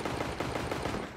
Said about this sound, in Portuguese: o Breezy spamando tiro na smoke